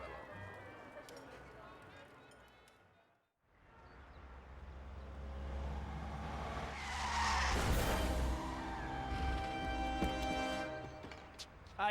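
Car skidding and crashing in the Mafia: The City of Lost Heaven video game, tires squealing loudly and building to a harsh crash, with a voice heard briefly before it and a sharp thud at the end.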